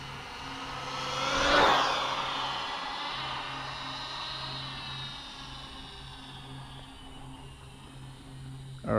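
A Vendetta speed-run car motor screams past at high speed, a whining pass that swells to a peak and then fades as it runs on into the distance, heard alone outdoors.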